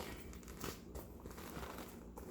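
A plastic bag being handled, soft irregular crinkles and rustles in short bursts, quiet and close, with no voices over them.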